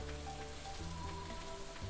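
Steady pattering rain from the video game Stardew Valley, dense and even, mixed with sustained musical tones from the game's background score.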